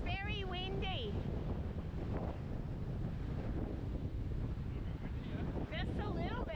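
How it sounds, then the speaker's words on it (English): Strong wind at a river crossing buffets the microphone with continuous loud, rumbling roar, while brief voices and whistling chirps come through at the start and end. "So just in case you can't tell, it's very windy."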